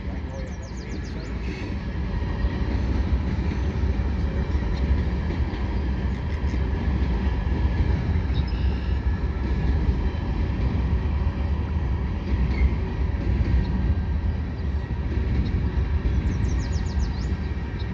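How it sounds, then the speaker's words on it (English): CN freight train of scrap steel cars rolling past on the Lachine Canal bridge, a steady loud rumble with metallic wheel clatter throughout, a voice talking occasionally over it. "And these are scrap steel cars."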